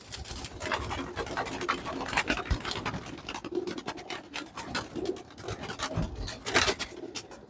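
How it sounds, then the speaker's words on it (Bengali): A pigeon chick held in a hand gives soft, close cooing and fluttery scratching amid rustling, with no talk. "তো আমার হাতে যে কবুতরটি এই কবুতরটি কিন্তু এক লক্ষ টাকা দামের কবুতরের বাচ্চা"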